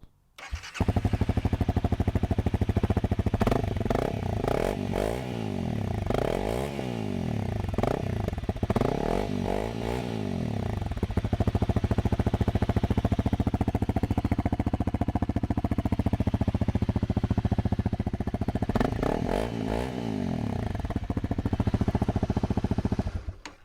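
A Honda CRF250L dual-sport motorcycle fitted with a Yoshimura spark arrestor exhaust idles loudly and close, then revs repeatedly in rising and falling bursts, settles into a sustained drone, and finishes with more throttle blips.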